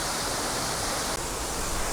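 A high-volume autumn waterfall roars as a constant, loud wash of rushing water and spray, heard up close and alone.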